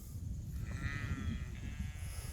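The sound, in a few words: sheep bleating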